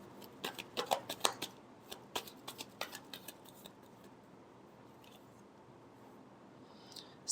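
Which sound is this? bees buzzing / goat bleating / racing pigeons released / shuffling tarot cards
shuffling tarot cards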